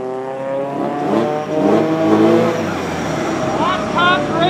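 Mazda MX-5 ND sports car on a track run, its engine revving loud and close with shifting pitch sweeps as it accelerates, partly under a person talking.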